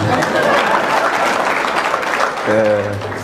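Audience applause at a comedy performance fills the whole stretch as steady, dense clapping, with a voice briefly speaking over it near the end.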